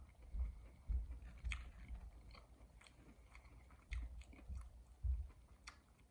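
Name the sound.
biting and chewing fried onion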